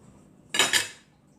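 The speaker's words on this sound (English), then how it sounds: "So we'll cut a little slice out" A knife slicing into a juicy citrus alizza fruit, heard as one brief close crisp cutting burst with two quick strokes, alone in a quiet room.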